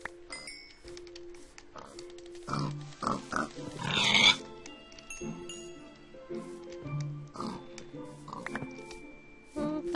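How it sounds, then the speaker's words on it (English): Pigs in the video game Minecraft, a scatter of grunts and snorts amid soft game clinks and ticks over about ten seconds, fairly quiet. "Whoa, there's a lot of pigs."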